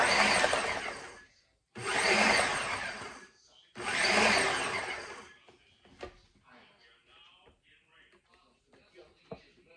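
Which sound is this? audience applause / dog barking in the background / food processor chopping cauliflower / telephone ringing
food processor chopping cauliflower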